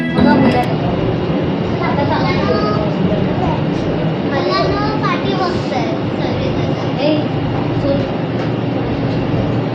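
Steady, close rumble inside a moving air-conditioned Mumbai monorail carriage continues throughout, with voices and children chattering over the ride.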